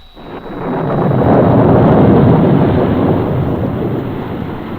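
Storm effect for a radio drama in which an aircraft is swept away by a tempest: a loud, sustained roaring rumble of thunder and wind that swells quickly and holds for several seconds, with no voices.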